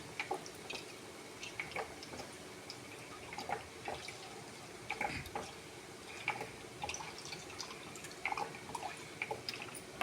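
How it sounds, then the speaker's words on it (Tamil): Sesame oil, a quarter litre, poured into a pan for mango pickle, with soft liquid trickles and drips scattered through a quiet kitchen background. "கால் லிட்டர் எண்ணெய் ஊற்றியாச்சு."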